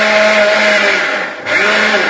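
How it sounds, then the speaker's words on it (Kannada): A mixer grinder runs steadily as it blends banana, curd, sugar and salt, a loud continuous motor whine with a brief dip in pitch and level partway through before picking back up. "ಬಾಳೆಹಣ್ಣು, ಮೊಸರು, ಸಕ್ಕರೆ, ಉಪ್ಪನ್ನು ಮಿಕ್ಸರ್ಗೆ ಹಾಕಿ ಚೆನ್ನಾಗಿ ರುಬ್ಬಿ"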